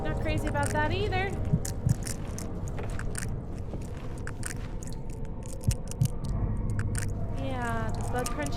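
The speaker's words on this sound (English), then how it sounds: "the bug crunching noises" Wet, squishy bug crunching sounds from Amnesia: The Dark Descent, repeated soft crunches and scrapes under a steady ambient drone, with someone talking throughout.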